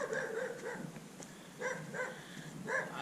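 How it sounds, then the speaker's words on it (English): A dog barks in a backyard beside a hillside hiking path in Los Altos Hills, California. Several moderate barks and yips come in spaced bursts over steady outdoor background noise. "There's a dog right there."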